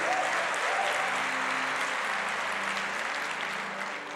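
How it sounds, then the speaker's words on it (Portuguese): A church congregation applauds at a sermon by a bishop, a steady, moderately distant roar of many hands clapping that fades slightly toward the end, with a low hum underneath. "Pode dar uma salva de palmas a ele"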